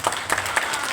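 Short loud burst of audience applause following a stage skit, close and dense with several sharp individual claps standing out over the crowd.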